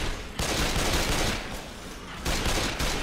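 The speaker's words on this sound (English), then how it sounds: "Shotgun and the dual pistols." Shotgun and dual pistols firing in the zombie shooter game Left 4 Dead 2, a dense, loud burst of gunfire with two brief dips where the volume briefly drops.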